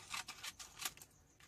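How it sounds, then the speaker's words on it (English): Paper being cut with scissors for a handmade candle greeting card, a series of short crisp snips in an uneven rhythm, close and fairly quiet, with no voices. "So we could go ahead and cut some of this off."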